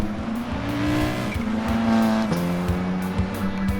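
A Ford Focus RS rally car racing in Gran Turismo, its engine revving loud and close through shifting gears, with tire squeal as it drives hard.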